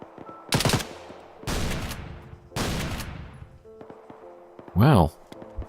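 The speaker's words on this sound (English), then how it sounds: "I can hear some shooting in the distance. It's definitely not us. Oh, it's buckshot. The shotgun." Shotgun fire in a survival shooter video game: three loud, broad blasts spaced about a second apart, each with a lingering tail, followed by a brief warbling tonal burst near the end.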